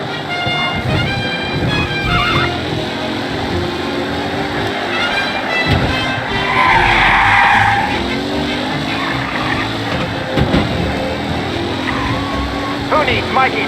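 Car race in Mafia Definitive Edition, with engines roaring throughout and a burst of tire skidding near the middle, all under continuous game noise and voices.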